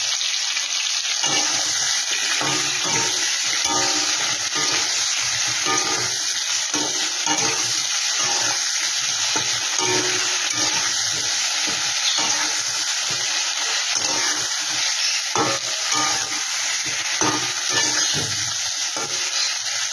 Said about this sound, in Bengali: এদিকে কড়াইতে আমি তেল বসিয়ে দিয়েছি, চিংড়ি মাছগুলো আমি দিয়ে দিচ্ছি।